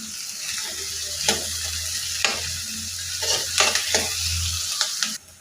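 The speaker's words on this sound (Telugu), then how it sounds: "ముందు కొద్దిగా ఆయిల్ వేసుకొని తర్వాత ఉల్లిపాయ ముక్కలు వేసుకోవాలి. ఇవి కొద్దిగా వేపుకోవాలి." Onion pieces fry in a little oil for a stalk-and-spice masala, a steady close sizzle broken by several sharp stirring scrapes, with no talking.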